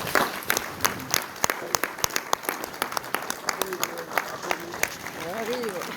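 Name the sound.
audience applause welcoming a guest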